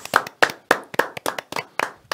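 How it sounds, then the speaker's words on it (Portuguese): Several people clap together for a woman's birthday, a brief, lively burst of handclaps with uneven rhythm, close and fairly loud, with no talking over it. "Olha aí, então, salve de palmas"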